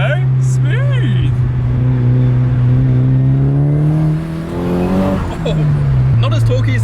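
A Toyota Chaser JZX100 with a 1JZ engine and a VAREX remote-control muffler revs loudly through a double-clutch downshift into second gear: the engine drones steadily, blips sharply, then drops as the gear engages, close and continuous.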